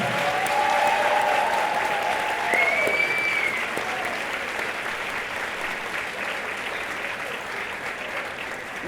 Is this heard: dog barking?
no